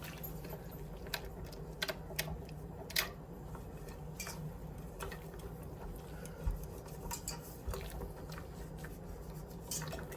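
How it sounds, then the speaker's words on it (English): A whisk beats a marinade for smoked chicken gyros in a bowl, making quick, irregular clicking taps up close over a soft steady background, with no one talking. "Now we're just going to whisk that together as well."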